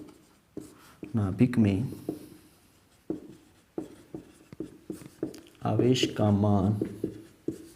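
Chalk or marker strokes on a board during a class 11 chemistry lesson, short scratchy bursts between and under a teacher's steady spoken explanation.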